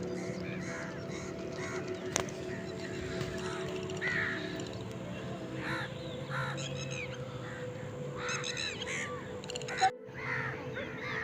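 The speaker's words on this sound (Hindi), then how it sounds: "एक कौवा वो है जो पानी के अंदर घूम रहा है" Crows caw repeatedly outdoors near water, several harsh calls in irregular bursts over a low background hum, moderately close, with a sharp knock near the end.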